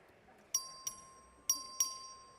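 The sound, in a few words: bell rung by the clerk for a House record vote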